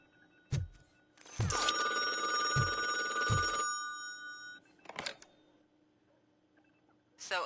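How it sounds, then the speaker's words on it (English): In the video game Robocop Rogue City, a telephone bell rings loudly for about two seconds in a bright metallic trill, then stops, followed by faint clicks and a short thud. "I hear the phone. Hold on."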